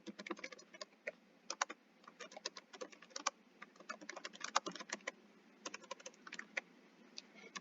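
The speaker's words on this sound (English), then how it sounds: "type in the name of the product" Keystrokes on a computer keyboard as a product name is typed into an Excel spreadsheet, quiet and close, coming in quick irregular bursts with short pauses between words.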